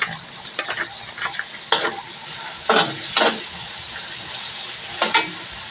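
Spatula scrapes and stirs pancit noodles in a pan as soy sauce goes in, a low steady sizzle underneath with several sharp clattering strokes spread unevenly across the moment, close and fairly quiet.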